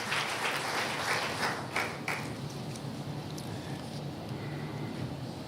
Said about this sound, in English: Please give the family members a round of applause